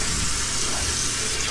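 Tap water runs steadily as a razor is rinsed after a shave, an even, close gush with no pauses.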